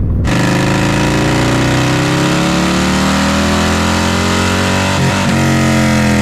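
A Harley-Davidson Low Rider S with a Dynojet Power Vision tune rumbles loudly and steadily up close, its deep engine note shifting pitch briefly near the end.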